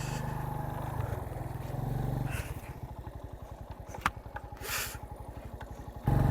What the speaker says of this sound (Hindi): इतना भारी मोटरसाइकिल रेत में मोड़ना भी बहुत मुश्किल है भाई।